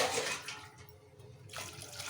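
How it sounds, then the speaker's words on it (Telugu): Water is poured from a glass into a cooking pot of tamarind-style gravy as a loud, splashing gush. It eases off briefly midway, then surges again, with no talking. "ఒక మూడు గ్లాసులు వాటర్ పోసుకున్నాను"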